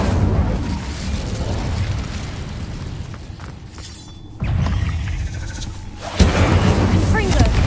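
An Incendio fire spell cast during combat in Hogwarts Legacy, loud game effects with a whooshing burst and a heavy blast near the end, layered over other spell noise and a spoken incantation.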